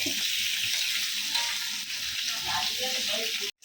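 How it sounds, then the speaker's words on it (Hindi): Chicken pieces, already steamed, crackle and sizzle steadily in hot oil in a pan as they crisp, a dense continuous fry with faint stirring and handling noises, ending abruptly. "अभी इसको टर्न कर रहे हैं, दूसरे तरफ से भी अच्छे से इसको फ्राई करके लेंगे।"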